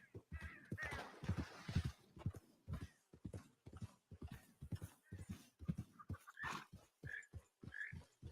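Horse hooves clip-clopping in a video game as the horse is ridden, a steady rhythmic trot of close, distinct hoofbeats with a crow cawing faintly at times.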